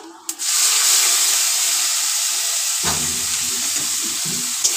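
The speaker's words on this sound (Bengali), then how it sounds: "ভালো করে রসুনটা ভেজে নেব।" Chopped garlic sizzles steadily in hot oil after whole five-spice seeds and dried red chillies went into the pan, a loud, continuous frying hiss carrying through with a brief clatter at the start.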